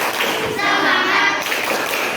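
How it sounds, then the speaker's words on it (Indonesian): A primary school class in Indonesia does a rhythmic spirit clap chant, the children's voices chanting together over quick hand claps, loud and close in the classroom. "Kita tepuk semangat dulu ya."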